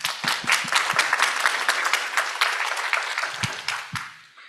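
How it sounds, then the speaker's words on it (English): Audience applause at a cancer equity symposium: a dense, steady patter of many hands clapping at moderate volume, with a few sharper claps standing out, tapering off toward the end. "a huge round of applause to the Choices Lab for putting all this together today."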